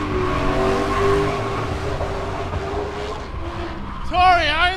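Drift cars, including a BMW E36, skid through a drifting competition with engines roaring and tires squealing, and a sharp wavering squeal bursts out near the end while a commentator talks over the action.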